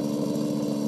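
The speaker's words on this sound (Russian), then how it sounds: "Завела уже триммер" A small engine drones steadily nearby, the string trimmer's motor humming at a constant idle-like pitch with no voices.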